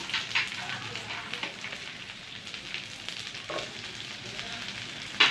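Ginger, garlic, green chillies and shallots sauté in a pan for egg white kurma, a soft crackling sizzle with occasional stirring clicks, fairly quiet and close.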